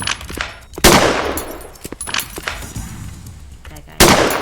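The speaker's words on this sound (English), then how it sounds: "This game's really easy with the AK." AK rifle fire in the shooter game Time Shooter 2 comes as three loud, sharp bursts with ringing tails, spaced a second or more apart, mixed with a person talking.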